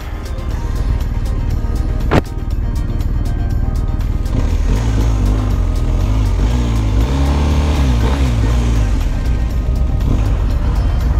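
A 2021 BMW R1250 GS motorcycle engine runs loud and close, a steady rumbling drone that swells and wavers in pitch as it is revved, with a sharp knock early on.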